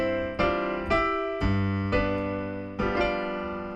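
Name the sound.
piano left-hand part of The Entertainer by Scott Joplin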